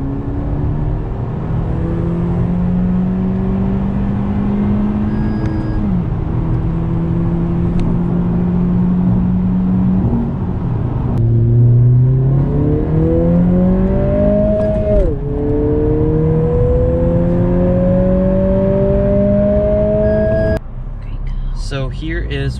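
A 2020 Honda Civic Si accelerates hard with sport mode off and its adaptive sound control disabled. The loud engine note climbs in pitch, then drops sharply at each of several upshifts before rising again.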